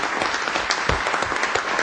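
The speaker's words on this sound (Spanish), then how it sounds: "Pido que le demos un aplauso al ministro Tarek El Aissami." An audience applauds a government minister during a televised Venezuelan government council in 2009, a short, dense burst of clapping with no speech over it.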